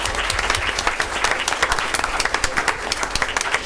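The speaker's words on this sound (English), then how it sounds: "Let's give her a hand." Audience applause for a female competitive cheer and sideline coach named Coach of the Year at a school board of education meeting: steady, dense clapping from a room of people, sustained throughout with scattered louder claps.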